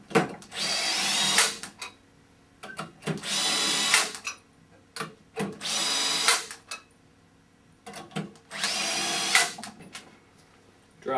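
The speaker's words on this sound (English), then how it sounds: "Install 4 elastic lock nuts to hold motor plate onto motor." A power drill or driver tightens four elastic lock nuts holding a motor plate onto the motor of a Model 150/200 vibratory machine, four separate whirring bursts of about a second each, close and fairly loud, with quiet gaps between.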